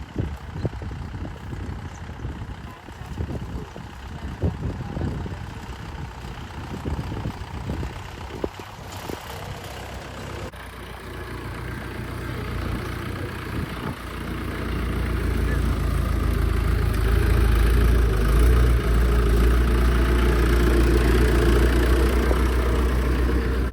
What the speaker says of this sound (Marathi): आता ते एकदम मस्त ट्रॅक्टर चालवतोय बघा